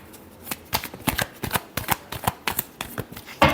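A deck of tarot cards being shuffled up close, a quick run of sharp riffling snaps and flicks with short pauses between them, ending on a louder final burst.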